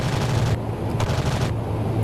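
A C-130 gunship's cannon firing in the DCS World flight simulator, a few heavy bursts separated by short pauses over a constant low engine drone.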